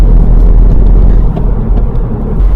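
A 2023 Ford Fiesta ST three-cylinder engine drones from inside the car, a loud, muffled low rumble that runs steadily with slight swells.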